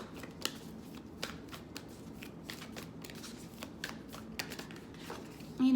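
Moonology Oracle cards are shuffled by hand in a steady run of crisp riffling snaps and soft slides, close and fairly quiet, with no talking.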